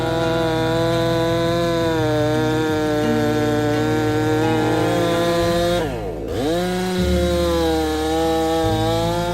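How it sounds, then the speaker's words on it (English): A gas chainsaw cuts a large tree at a sawmill, running loud and steady in the foreground, its engine pitch dipping sharply as it bogs into the wood, then revving back up. "the tool of choice is still the gas-powered chainsaw"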